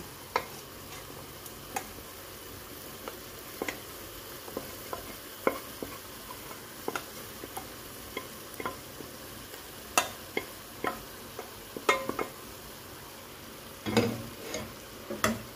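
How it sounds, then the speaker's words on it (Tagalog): Boiled mung beans stirred into a pan over low heat, sautéing alongside bottle gourd for a monggo dish, with a soft steady sizzle broken by sharp scattered clinks of a utensil against the pan, growing busier toward the end. "I-add natin ang ating pinakuluang munggo."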